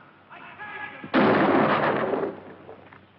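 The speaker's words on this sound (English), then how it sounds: "Some posse man shooting a guy with his hands up." A single loud gunshot in a radio drama, a sharp blast with a roaring tail that fades over about a second, following a brief voice.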